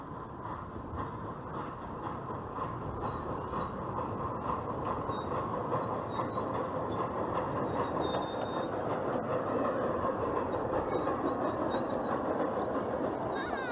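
A one-third-scale miniature railway train rolls along the rails with a steady rumble and rhythmic clatter, faint wheel squeals rising above the continuous noise.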